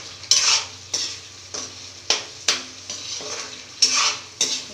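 Kashmiri paneer is stirred and dried in a pan: a spoon scrapes against the metal in about ten distinct, fairly regular strokes over a faint sizzle, close up and without talk.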